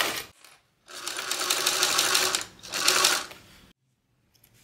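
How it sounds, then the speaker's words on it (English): A sewing machine runs a top stitch at a 1/8 inch seam allowance on a bag exterior, two sustained bursts of steady rapid stitching separated by a brief pause, close and clear with no talk. "now we're going to go and add a top stitch at 1/8 of an inch seam allowance"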